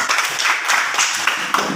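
A classroom of students claps to praise a classmate's correct answer, a dense, steady patter of many small hands filling the room for a couple of seconds, with no talking over it.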